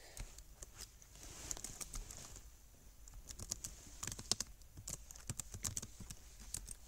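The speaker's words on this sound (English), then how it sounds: "And then you can also type in your text." Quiet computer keyboard typing, a steady run of light key clicks with short pauses, close and alone with no talking, while text is entered in a video editor.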